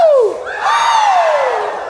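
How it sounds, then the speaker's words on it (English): Women in a concert audience at a piano show shout a rising, sustained collective woo, loud and close, preceded by a brief falling vocal sweep. "Let me hear all the ladies go, woo!"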